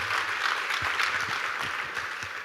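A live audience at a university session at IIT Delhi breaks into applause, a steady, fairly soft wash of many hands clapping together from some distance, with no voices over it.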